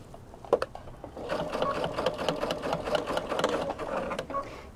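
A sewing machine stitches through thick double-layer batting for a penguin play mat: a steady close mechanical chatter of rapid needle strokes that starts with a brief knock and then runs evenly to the end.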